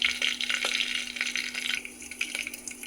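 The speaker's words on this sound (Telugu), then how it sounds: "ఆయిల్ హీట్ అయిన తర్వాత తాలింపు గింజలు వేసేసాను" Tempering seeds frying in hot oil in a cooker, a steady close sizzle with light crackles and stirring scrapes running through the whole stretch, no voices.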